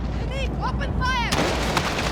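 In the Call of Duty: Modern Warfare (2019) game, a shouting voice gives way to sudden loud bursts of gunfire, with one sharp report followed by another a moment later over a constant battle rumble.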